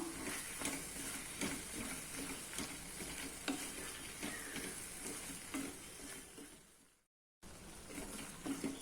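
Ginger, garlic and tomatoes sizzle and crackle in a hot pan, with repeated stirring scrapes and taps at an uneven rhythm, briefly cutting to silence near the end.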